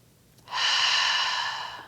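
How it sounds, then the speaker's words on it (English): A single long, deep breath taken during a yoga class, close and clear, rising suddenly and holding steady before easing off, with no talking. "Deep breathing, okay?"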